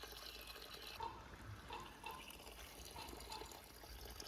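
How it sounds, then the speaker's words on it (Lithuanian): A small woodland stream flows in a faint, steady, gentle burble close by, with only slight variation and no voices. "Žiūrėk, upelis, matai koksai?"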